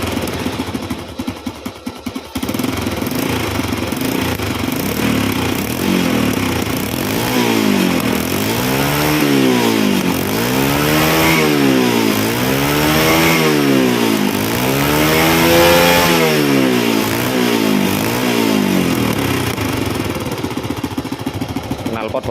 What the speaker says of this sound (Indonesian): Satu kali engkol langsung menyala